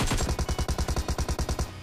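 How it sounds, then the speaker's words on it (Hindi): Automatic gunfire in a mobile shooter game played on an ROG 3 phone: a rapid, evenly spaced burst of about a dozen punchy shots, loud and close, cutting off abruptly at the end. "स्क्वाड हाउस पे एक बंदा बहुत देर से गोलियां चला रहा था"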